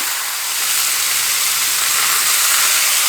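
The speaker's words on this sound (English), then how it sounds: "I just want to sear it in there like that" A pork chop sears in a hot cast iron skillet, producing a loud, steady hiss that swells a little across the few seconds and plays alone, with no voices.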